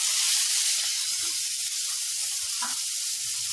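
Finely chopped onion frying in a pan over a medium flame, giving a steady, bright sizzle and hiss throughout, with a few soft low knocks underneath; no one speaks.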